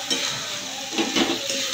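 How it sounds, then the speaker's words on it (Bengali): Fish heads being stirred in a pan of hot oil for Bengali muri ghonto, a close, steady sizzle with a few scraping stirs of a spoon against the pan, no voices. "ভালো করে নেড়ে নেবো। জেলে রাখা মাছের মাথাগুলোও দিয়ে দেবো।"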